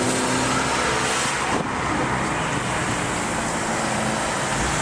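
Interior road noise from a car carrying hitchhikers on the way back to Yerevan's city centre, a steady loud rumble and hiss of engine and tyres that continues without a break and has no talk.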